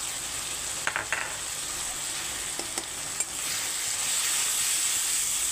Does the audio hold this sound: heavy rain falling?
no